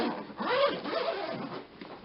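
Zipper being pulled open on a purple suitcase, one continuous close rasping zip lasting about two seconds.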